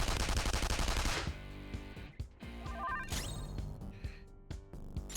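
Loud, rapid gunfire from a gun attack in the Persona 5 Royal battle against Samael opens the clip, then cuts to sharp impact hits and chiming battle effects over game music.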